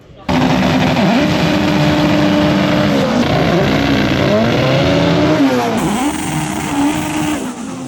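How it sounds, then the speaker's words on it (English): A Honda Civic drag car's engine roars at high revs continuously during a burnout, rising and falling in pitch with tire squeal, loud and close, sustained for several seconds. "Go on, Musa, show us how to do a proper burnout, man."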